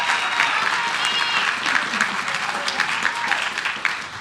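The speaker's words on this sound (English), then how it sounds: "So please give everybody a round of applause." Applause at a Santa Ana city council meeting, a room full of steady clapping holding for several seconds before tapering slightly.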